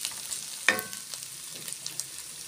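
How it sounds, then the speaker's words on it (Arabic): Onion and meat fry in a hot pan while being stirred, a soft steady sizzle with one sharp scrape of the utensil near the start, then quieter crackling. "هشوحهم فيهم كويس قوي لحد ما البصله تكرمل معايا"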